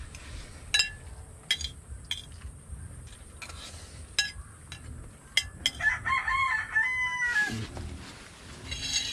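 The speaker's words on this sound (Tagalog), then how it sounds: "May manok na naman sa ating taniman, no?" A rooster crows among garden plants near a home, a few shrill calls at moderate distance over quiet background with faint clinks of cutlery nearby.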